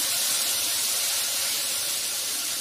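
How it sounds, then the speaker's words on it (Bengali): Tomato purée sizzling as it is sautéed in a pan for a Bengali dish, a loud steady hiss that holds evenly throughout with no talk. "টমেটো পিউরিটা দিয়ে দেবো। দিয়ে একটুখানি কষাতে হবে।"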